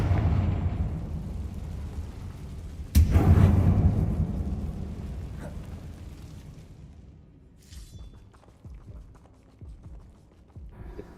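A sudden, loud blast from the Confringo spell in Hogwarts Legacy, with a sharp crack and a rumbling, crumbling tail that fades over several seconds into faint scattered clatter and footsteps.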